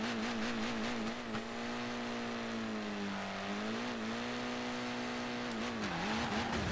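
Old Ford Escort engine racing in Forza Horizon 4, a loud steady game engine drone with a continuous tonal whine that dips and recovers, under excited commentary.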